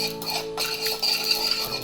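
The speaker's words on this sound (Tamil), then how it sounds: "இது வெடிக்கணும். இப்போ சத்தம் வருது தெரியுதா?" Sesame seeds dry roast in a hot pan, giving a close, fizzy crackle with light ticking pops that carries on steadily and briefly.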